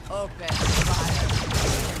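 Blaster fire from the Star Wars Genesis video game rattles off in a rapid volley, following a brief voice at the start and continuing as a dense burst of shots.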